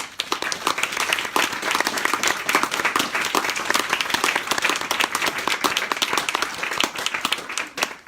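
Sustained applause from an audience, dense clapping at steady loudness throughout with no pauses.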